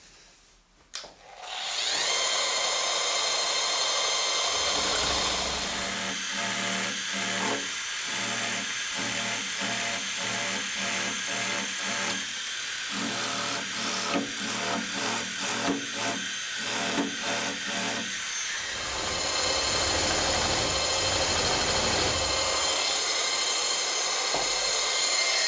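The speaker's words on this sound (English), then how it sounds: "So power scraper is set to a stroke of about 15 millimeter" A power scraper set to a roughly 15 mm stroke works the surface of an adjustable angle plate, producing a loud continuous grinding rasp with a fast pulsing rhythm of strokes partway through, close to the microphone.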